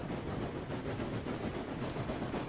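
Steam locomotive in the RailRoads Online game pulling loaded oil cars, a continuous broadband chuffing and rumbling roar with hissing steam, steady and close throughout with no talk.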